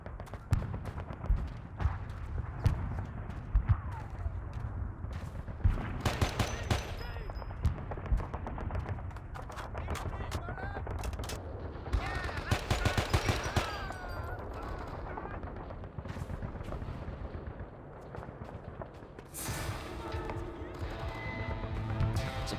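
Rapid machine-gun bursts and scattered rifle shots from the Men of Valor video game, set in the Battle of Hue City, crackling almost nonstop for over twenty seconds with loud volleys, while voices talk over the fighting.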